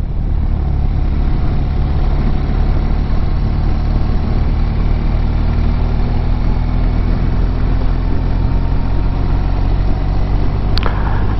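Steady motorcycle engine drone while riding, loud and continuous wind-buffeted rumble close to a helmet camera, with a brief sharp click near the end.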